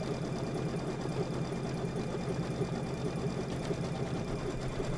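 A quilting sewing machine runs continuously through fabric for a Kimberbell autumn quilt, a steady close rapid stitching hum with even rhythm and no pauses, no voices.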